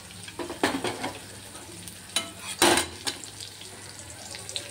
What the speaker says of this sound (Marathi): छान अशी कोथिंबीर सुद्धा मस्त फ्राय करून घ्यायची आहे।